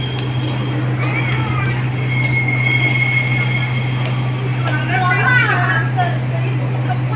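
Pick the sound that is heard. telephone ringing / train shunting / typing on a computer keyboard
train shunting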